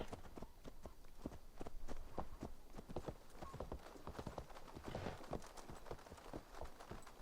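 Horse hooves clip-clop at a brisk run in Assassin's Creed Valhalla, a steady stream of quick, even hoofbeats throughout, fairly faint and alone with no talk over it.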